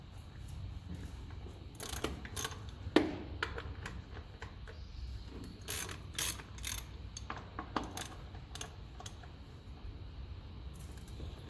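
A wrench works loose 11/16 nuts on a Massey Ferguson 35 tractor, giving quiet bursts of metallic clicks and ratcheting with short clanks and pauses between turns, close but faint.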